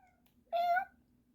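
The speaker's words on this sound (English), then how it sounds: "That's Mr. Draken's cat" A single short cat meow, clear and fairly close, rising briefly over a quiet room background in a house.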